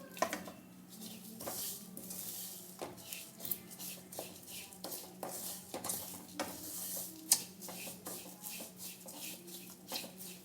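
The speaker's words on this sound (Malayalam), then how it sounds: "ഇനി ഇതിനെ നന്നായിട്ടൊന്ന് വറുത്തെടുക്കാം" Quiet frying of shallots and curry leaves in a pan, a faint sizzle under repeated scrapes and clinks of a spoon stirring, close and without talk.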